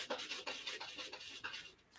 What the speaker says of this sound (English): you're about to hear my cat use a litter box.